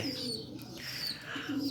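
Black Shirazi pigeons coo softly and repeatedly, low throaty calls mixed with faint chirps from nearby birds, with no voices.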